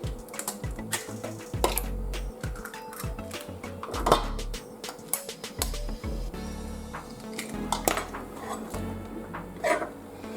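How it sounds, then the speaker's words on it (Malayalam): Eggs and omelette ingredients are mixed in a bowl, with irregular close clinks and taps of a utensil against the bowl between brief pauses and no talk. "നമ്മുടെ ഇൻഗ്രീഡിയൻസ് എല്ലാം കൂടെ നമുക്കൊന്ന് മിക്സ് ചെയ്തെടുക്കാം."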